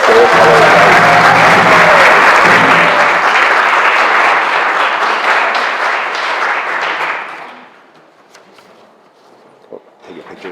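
Loud, dense applause from a graduation ceremony audience, steady for about seven seconds before fading out, followed by quiet room noise and a few faint sounds.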